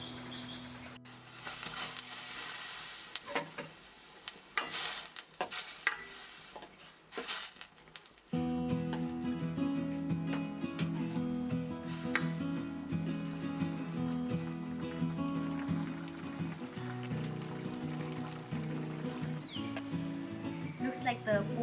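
Pork sizzles in a pan over a chula fire, with scraping stirring bursts for several seconds before music comes in and carries on to the end.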